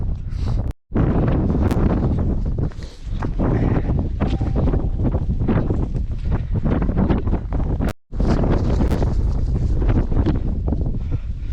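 Strong gale on Pen y Fan in bad weather, a loud, continuous roaring buffet across the microphone with gusting surges and two brief dropouts.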